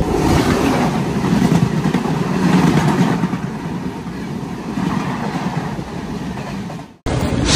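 A passenger train from Kottayam to Trivandrum runs steadily, with a loud, continuous rumble and rattle of wheels and carriage throughout. It cuts off abruptly near the end.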